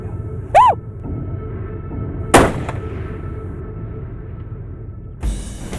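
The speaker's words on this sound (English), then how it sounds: "Felt like I made a good shot on the deer." A rifle shot at a whitetail deer in Texas cracks once, close and sharp, in the middle of the clip, with a short chirp before it and a softer thud near the end over quiet outdoor background.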